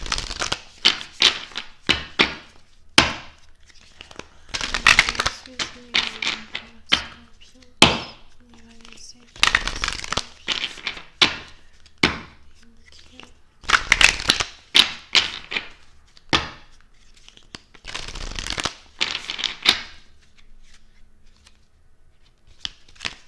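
Angel oracle cards shuffled by hand in repeated crisp riffling bursts with short pauses between, close and fairly loud, a voice speaking briefly at times.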